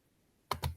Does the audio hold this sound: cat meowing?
no